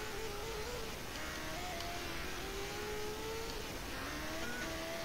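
A car in GTA San Andreas drives along with a faint, steady engine drone that rises and shifts in pitch as it accelerates, quiet and continuous.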